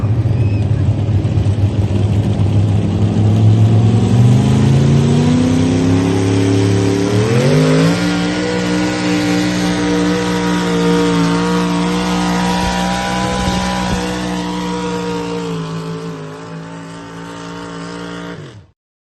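A pulling truck roars loudly at a truck pull, its engine revving hard and climbing in pitch as it hauls down the track, then fading as the run ends.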